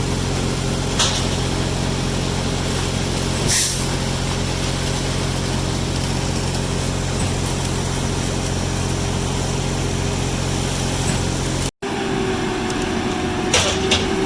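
Concrete truck with air brakes at a pad pour, a steady loud engine rumble and idle drone that runs unbroken until a brief cut, then continues with a quieter whine and a short hiss.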